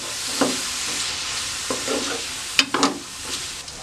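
Spices and softening onions frying in a kadai for malai kofta, a steady broadband sizzle with a few scraping stirs at irregular intervals, close and moderately loud, no voices.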